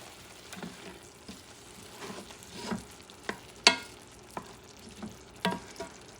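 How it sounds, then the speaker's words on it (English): Spaghetti meat sauce with ground meat, oregano and cilantro simmers in a pan over medium heat, a faint low sizzle broken by scattered clinks and scrapes of a spoon stirring. "Medium heat, let it cook for a tiny bit. Let it simmer."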